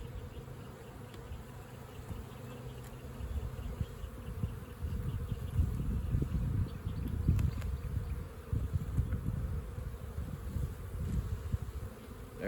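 Honeybees buzz steadily around an open hive during an inspection of the brood frames, a dense close hum that swells and fades slightly throughout, with no voices.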